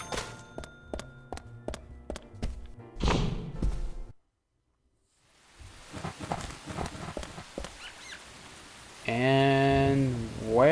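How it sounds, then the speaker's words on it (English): Rain in the video game Deadly Premonition comes in after a plucked musical passage and a brief silence: a steady patter of drops with scattered louder taps, then a warbling tone near the end. "Rain in the morning and afternoon."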